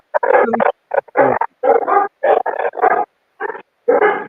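Several dogs bark and whimper in short, loud bursts with brief gaps, close by and filling the moment without other talk.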